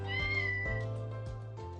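Kitten meowing, a close, clear series of three or four high, drawn-out mews in quick succession, alone with no talk.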